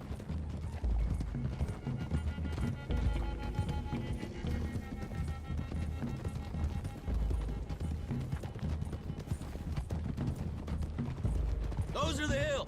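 Horses galloping in the Western video game Red Dead Redemption 2, a steady rapid clip-clop of several hooves running continuously at close range under game music and effects.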